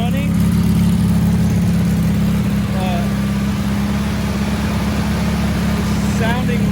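A 1957 VW 36hp engine, sitting unused for years, runs loud and close with a steady throbbing idle, while a voice speaks briefly over it.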